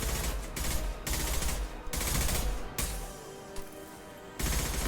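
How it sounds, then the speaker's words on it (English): Concussive shots fired in the sci-fi video game Mass Effect 2, rendered as several loud, blunt bursts of gunfire separated by brief gaps of quieter combat noise. "Firing concussive shots"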